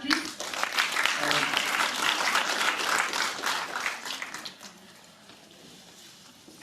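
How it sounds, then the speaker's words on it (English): Audience applause at the Nirbhaya Nari Shakti Awards 2017, loud dense clapping with a few voices mixed in, fading after about four seconds to quieter room noise. "Let's have a huge round of applause for him, please."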